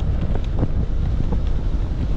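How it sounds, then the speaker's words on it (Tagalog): Steady wind rushing across the microphone, a continuous low buffeting roar with no voices. "Mahangin tapos malamig sa balat."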